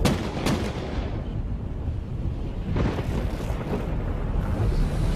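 Gunshots in a reenacted gangland-style mob shooting in Philadelphia: a couple of sharp booming reports, near and loud, set against a dense low rumbling background with no talking.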